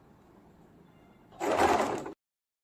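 A sewing machine stitches a baby's summer frock in one close, steady whirring burst of under a second, starting after a quiet lead-in and stopping abruptly, with no talking.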